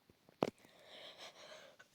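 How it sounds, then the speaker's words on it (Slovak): A woman coughs twice indoors: one short, close burst, a quiet pause with faint murmuring, then a second, louder cough at the end. "Prepačte, ak ste počuli, ako som kašľala."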